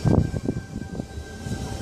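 A Sydney suburban electric train pulls away from Kirrawee station with low rumbling rolling noise and rhythmic wheel thumps, fairly close and without any talk.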